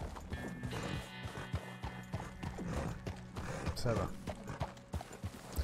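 Horse hooves clip-clop steadily across ice in Red Dead Redemption 2, a close, rhythmic run of hoofbeats under game music and someone speaking briefly.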